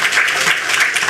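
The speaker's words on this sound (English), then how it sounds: "So a round of applause for Ms." Audience at a small business loan grant launch event gives a loud, dense round of applause, a continuous crackle of many hands clapping close by with faint murmuring underneath.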